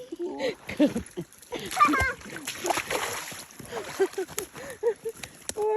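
Water splashes while people wade across a river during a mushroom-gathering outing in Sweden, irregular sloshing bursts close by, mixed with frequent talking and exclamations throughout.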